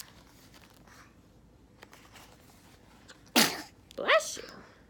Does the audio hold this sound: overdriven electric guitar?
no